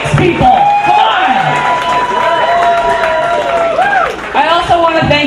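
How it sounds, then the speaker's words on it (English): Audience applause and cheering at a TechCrunch Austin meetup and pitch-off, a dense crowd clapping steadily for several seconds with whoops and loud voices mixed in, a brief dip near the end before rising again. "Please, big round of applause."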